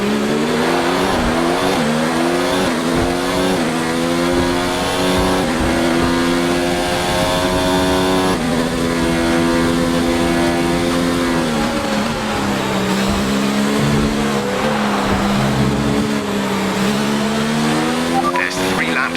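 A Formula 1 race car engine from the F1 2019 game at the Japanese Grand Prix screams loud and close, revving up and down through repeated gear shifts in one continuous high-pitched drone.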